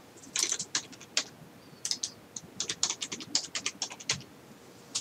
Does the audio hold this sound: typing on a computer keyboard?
yes